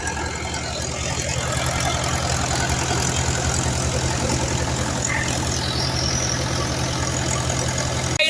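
A tractor-driven thresher runs continuously in a millet field, a steady loud mechanical drone with low engine hum and a dense rattling churn, unbroken throughout.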